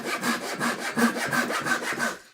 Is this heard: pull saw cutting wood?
yes